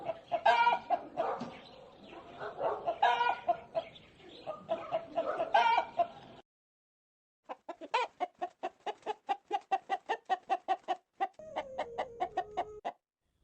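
A hen clucks in bursts, first in a busy run of calls, then after a short pause in a fast, regular series of sharp clucks ending with a drawn-out squawk, close and clear with no voices.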